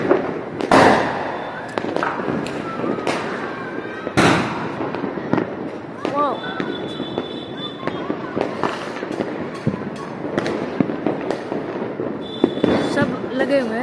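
Diwali firecrackers burst repeatedly, with sharp loud bangs and crackling pops scattered through the scene, some near and some farther off, while people talk and shout throughout.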